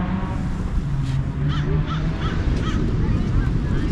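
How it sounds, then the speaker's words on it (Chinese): A bird calls repeatedly with harsh, cawing, crow-like cries in short bursts over steady background noise and a faint voice, somewhere near a beach in America. "小鸟啊别叫了别叫了"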